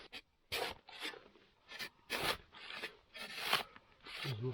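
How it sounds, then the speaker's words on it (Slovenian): A small shovel cutting packed snow into blocks for building a mini igloo snow shelter, heard as a series of close, crisp scraping and crunching strokes in an irregular rhythm, with no talking. "Z lopatko zarežem"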